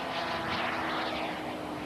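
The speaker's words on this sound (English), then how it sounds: "turned this ducted fan airplane into a turbine-powered airplane" A turbine-powered ducted fan model jet roars steadily overhead at a Top Gun 2000 air show. Its whining engine rush swells and shifts slightly as it passes, loud and close, with no talking.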